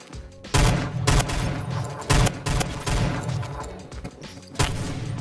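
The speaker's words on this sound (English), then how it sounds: "He just one-shot me with a pistol." Rapid gunfire in the Roblox shooter Phantom Forces crackles in bursts of loud, sharp shots, several clustered close together with brief gaps, near and dominant with no talk.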